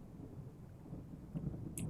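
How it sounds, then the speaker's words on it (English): Low thunder rolls in the distance during a storm, a soft continuous rumble with a slightly stronger swell toward the end, heard alone with no talking. "Oh, a little thunder."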